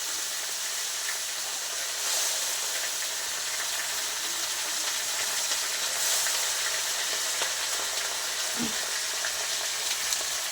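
Jute leaves (pat shak) frying in a pan, a steady close sizzle and hiss that continues throughout with occasional faint stirring scrapes and one brief low knock near the end.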